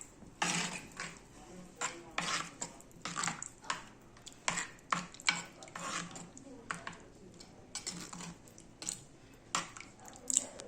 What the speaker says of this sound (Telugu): ఇప్పుడు దీన్ని మనం మొత్తం మంచిగా కలుపుకోవాలి.